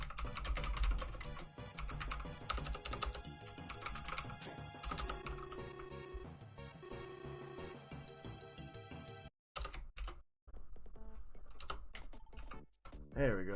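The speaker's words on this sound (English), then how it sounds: "type that on here." Continuous typing on a computer keyboard, a fairly busy run of key clicks heard under background music, with a couple of brief dropouts.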